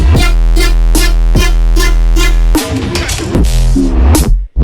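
Serum synth patch pushed through overdrive and OTT multiband compression, a loud buzzy repeating chord stab for the first half that breaks into denser, gritty sustained notes before cutting off abruptly.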